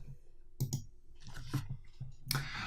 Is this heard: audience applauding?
no